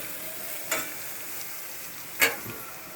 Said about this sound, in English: Zucchini and onions right there on the flat top.